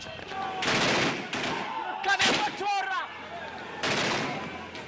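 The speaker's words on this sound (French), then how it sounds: "Cette fois, il tire à balles réelles sur les manifestants. Des tirs tendus à la Kalachnikov." Live Kalashnikov rifle fire aimed at protesters during unrest in Burundi: loud bursts of gunshots in a chaotic outdoor scene, with shouting voices between the volleys.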